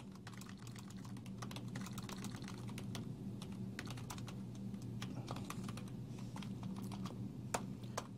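Close, steady typing on a computer keyboard: a quick irregular stream of light key clicks over a low background hum, with no voices.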